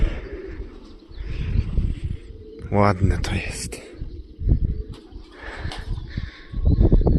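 Pigeons coo around a solid pigeon loft and aviary, soft throaty calls mixed with chirps under outdoor noise, while someone talks over them.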